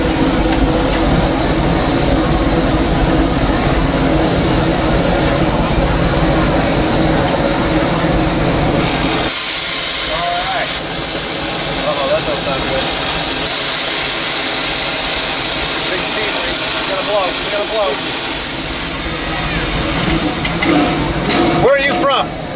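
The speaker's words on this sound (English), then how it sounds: "this is the fire. That's the steam train." A Disneyland Railroad steam locomotive hisses and rumbles steadily in the cab, loud and close, with a sharper burst of hissing partway through and people talking over it.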